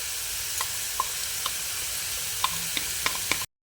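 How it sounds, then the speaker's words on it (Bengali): A yogurt and gram flour mixture sizzles steadily in a hot pan with coriander, green chilli and garlic paste, while a utensil scrapes and taps the pan in scattered close clicks before the sound cuts off abruptly. "এবার এর মধ্যে দই ও বেসনের মিশ্রণটা দিয়ে দিচ্ছি"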